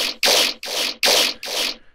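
Processed dubstep growl bass synthesized in Serum, a gritty, broadband wobble pulsing in five loud, evenly spaced bursts that fade out at the end, with no voices.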